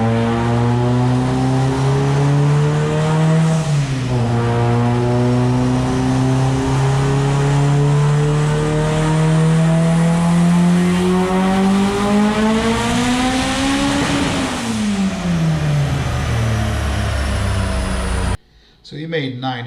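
A turbocharged car engine with a Garrett G42-1200 turbo revs hard on a dyno at 52 psi boost, running rich, a loud sustained roar that climbs in pitch, dips briefly, then sweeps up again before cutting off abruptly near the end.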